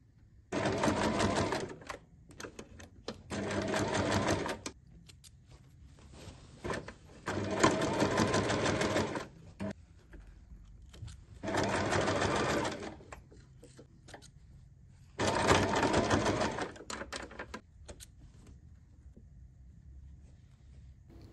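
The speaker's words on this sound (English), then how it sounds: "just sew the pinned area." A sewing machine stitches a fabric roll-up bag in five distinct bursts of rapid mechanical whirring, each lasting a couple of seconds, separated by quiet pauses, close and clear with no talking.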